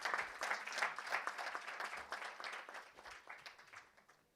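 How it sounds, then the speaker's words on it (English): Applause from an audience at an AI innovation event in India as people are invited on stage, a moderately quiet, slightly uneven clapping that swells early and gradually fades. "Can we have a round of applause?"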